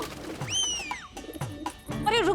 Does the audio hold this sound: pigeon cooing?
yes